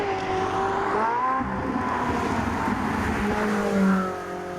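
Ferrari 458 Italia with a 4.5 litre V8 and triple exhaust accelerates hard, its loud engine note climbing through the revs, dipping at a shift, then climbing again before easing off.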